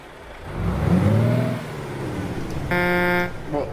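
A modded engine of an Iveco T-Way truck in Euro Truck Simulator 2 revs up and drones close and loud, and a long buzzy horn blast follows near the end.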